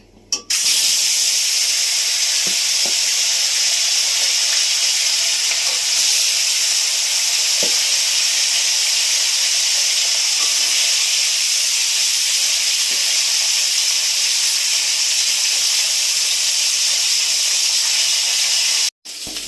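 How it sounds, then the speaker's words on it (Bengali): Loud, continuous hissing sizzle of fish frying in hot mustard oil in a kadai, close up and unbroken for most of the stretch, with occasional small pops. "তেল গরম হয়ে গেছে মাছ দিচ্ছি"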